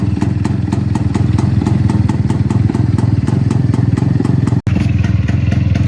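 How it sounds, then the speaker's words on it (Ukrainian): Restored IZH-49 two-stroke motorcycle engine running close up, a loud, even, rapid popping idle with steady mechanical clatter. "Дивимося на працюючого Іжа 49 го"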